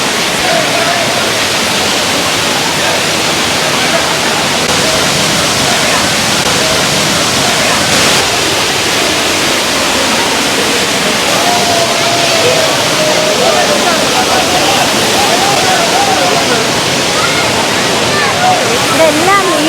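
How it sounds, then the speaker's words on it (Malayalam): Thirparappu waterfall thunders up close in a loud, unbroken roar of rushing water that fills the whole scene, with a faint babble of crowd voices underneath. "അടുത്ത് നിന്ന് ഇത്രയും നല്ലൊരു വാട്ടർഫോൾസ്"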